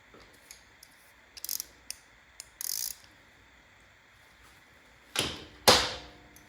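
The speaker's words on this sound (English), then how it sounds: "So we'll tighten these down." Fasteners on the intake flange of a Janus Halcyon 250 carburetor install are tightened by hand, giving scattered faint clicks and scrapes, then two louder metallic ratcheting bursts near the end in a quiet room.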